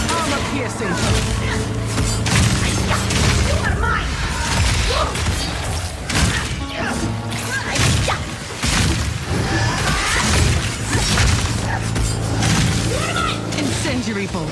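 Crossbow firing armor-piercing bolts during a mini-boss fight with Laim the Impaler in Path of Exile 2, a dense stream of thumps and impacts layered with game music and effects throughout, with a voice talking over it.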